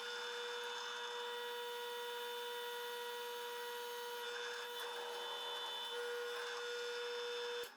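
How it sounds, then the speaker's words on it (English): Drill press boring through a steel factory bracket and an added aluminum bar for a Celestron 8i Special Edition telescope, a continuous loud whining, grinding hum with a steady tone that cuts off at the end. "We'll fire it up and drill this hole through both the factory bracket and the new metal bar that I'm adding."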